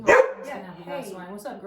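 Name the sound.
dog barking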